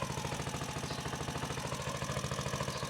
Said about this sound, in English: that thing runs pretty nice. Sitting here just idling away.